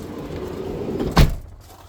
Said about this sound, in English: We'll just shut that door a moment.